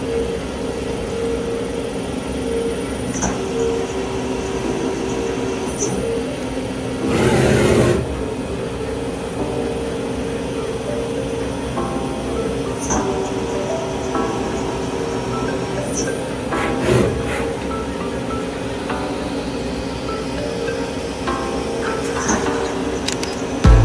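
A machine taps threads into a metal part for a camera build, giving a steady mechanical drone and whir with a brief louder grinding burst midway and a few faint clicks.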